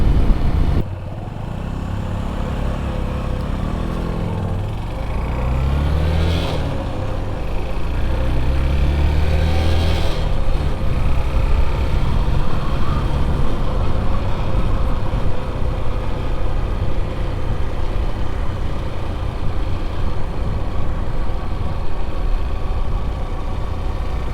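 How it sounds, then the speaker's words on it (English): A carburetted Honda CB125E motorcycle revs up through a few gear changes, then settles into a steady engine drone as it rides along the road, close and fairly loud. "today I'm riding the CB125E, the carburetted model"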